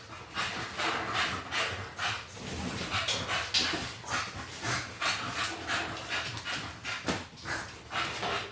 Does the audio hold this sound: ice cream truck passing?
no